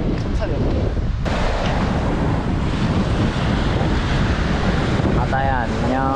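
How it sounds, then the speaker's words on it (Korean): Ocean waves roll and break on a beach at Yangyang on Korea's east coast, a steady broad roar heavily buffeted by wind against the microphone, with a few faint voices near the end. "이것 봐요. 파도."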